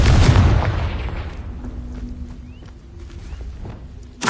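A Confringo spell explosion in Hogwarts Legacy bursts with a loud booming blast that decays into a low rumble, followed by faint ambient game sounds and a second thump at the end.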